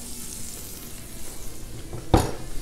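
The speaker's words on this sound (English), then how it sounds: "We're going to throw some butter down. Get this all cooking up." Sausage and potatoes fry in peanut oil and butter on a Blackstone griddle, a steady close sizzle with a brief louder hiss burst near the end as food hits the hot surface.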